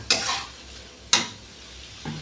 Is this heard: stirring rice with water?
yes